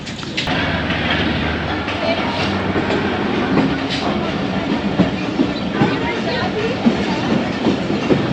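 Passenger train pulling out of Gujranwala station in dense morning fog in Pakistan, a steady loud rumble of rolling wheels and carriages with faint clicks, continuous throughout.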